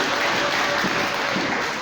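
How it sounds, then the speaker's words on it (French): A church congregation applauds the women, a dense, loud wash of clapping that holds steady for a couple of seconds before easing slightly at the end. "On acclame encore les femmes."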